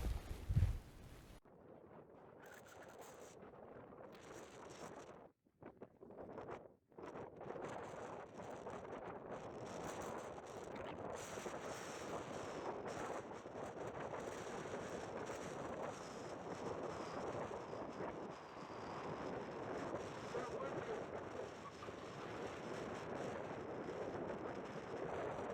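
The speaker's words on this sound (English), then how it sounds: "I can't find a spot to block the wind," Strong wind on a mountain trail up La Plata Peak in Colorado, roaring continuously into the microphone with heavy buffeting gusts and brief drops.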